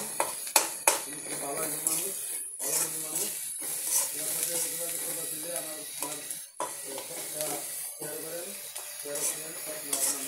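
Food sizzles in a pan while a utensil scrapes and clinks against the metal in irregular strokes, with a voice talking over the frying.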